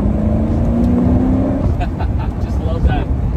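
A 1996 Ford Mustang GT convertible with a five-speed manual runs on the road. Its engine drone climbs steadily in pitch as it revs, then settles, with a person talking over the engine and road noise.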